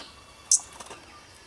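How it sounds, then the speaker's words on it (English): A female stitchbird at a feeder in a New Zealand valley gives a single short, sharp high call, followed by soft faint chirps against quiet background. "That's a female stitch bird there."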